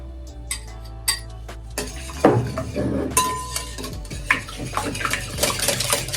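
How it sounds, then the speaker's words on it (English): Whisking wet ingredients and oil together in a bowl for morning glory muffins: rapid clinking and scraping of a whisk against the bowl, close and steady, with occasional louder knocks. "we're going to go ahead and whisk those together there, along with my oil"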